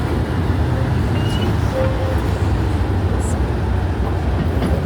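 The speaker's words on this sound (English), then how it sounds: "that train was a new train or an engine being brought in for repair or refurbishment" A steady, loud rumble of a train passing close by on the Keighley and Worth Valley Railway, with continuous rolling wheel noise and faint squeaks throughout.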